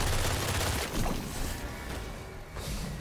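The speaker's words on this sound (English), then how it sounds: "we're gonna switch over to the goiter gun" Goiter gun in Witchfire unloading a dense, roaring barrage of rapid shots, loud and continuous, with a brief dip before firing resumes near the end.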